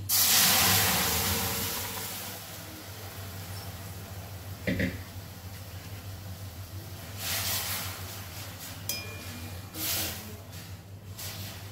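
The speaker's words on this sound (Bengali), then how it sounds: "এখন আমি এর মধ্যে সেদ্ধ করা ছোলার ডালটা ঢেলে দিচ্ছি।" Boiled chana dal is poured into a hot pan and sets off a loud burst of hissing sizzle. The hiss fades to a quieter steady simmer, with a few light clinks later on.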